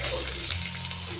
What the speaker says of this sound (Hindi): अब इसमें लहसुन और अदरक डालेंगे।